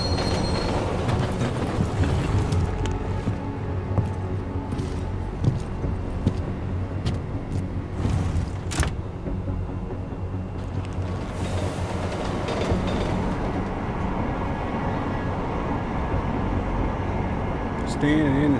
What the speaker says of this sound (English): Standing in the subway.